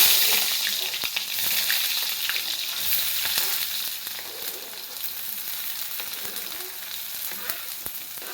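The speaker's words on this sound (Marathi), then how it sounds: "तर यामध्ये मी आता कांदा घालणार आहे बघा," Finely chopped onion hits well-heated oil for a chickpea usal, producing a loud, close, continuous sizzle and crackle that gradually settles over several seconds.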